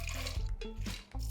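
Water is poured over overnight-soaked kidney beans (rajma) in a pressure cooker, a close splashing and gurgling pour with brief pauses and small drips.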